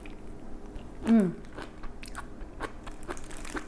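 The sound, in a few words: chewing crunchy spinach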